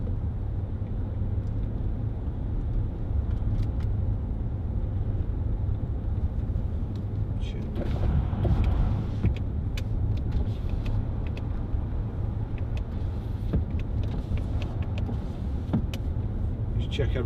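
A 2010 Range Rover Sport 3.6 TDV8 HSE diesel on a test drive, heard from inside the cabin as a steady, loud low engine and road rumble throughout, with brief clicks and a swell of noise midway.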